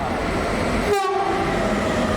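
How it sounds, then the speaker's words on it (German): A train passes on the Gotthard north-south line at Altdorf, Switzerland, with a steady loud rumble and a brief horn-like tonal sweep midway, heard alone without talk. "dann haben wir den nächsten Zug hier"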